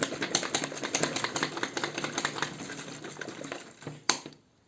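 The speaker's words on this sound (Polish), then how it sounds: "Zakręcamy sobie i wstrząsamy teraz." A closed, capped container of homemade drink is shaken hard, giving a fast rhythmic rattle and sloshing of liquid that carries on for several seconds, then ends with one sharp knock and silence.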